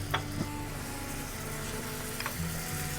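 Butter and thyme sizzle in a pan while finishing lamb loin, a quiet steady crackle with a few soft knocks and clinks of a utensil, no talking.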